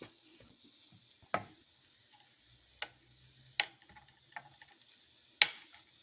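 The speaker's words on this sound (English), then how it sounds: "you're basically simmering, you're not frying at this point" A soft, steady sizzle of beef chili paste simmering gently in a pan, broken by occasional sharp clicks and taps of a utensil.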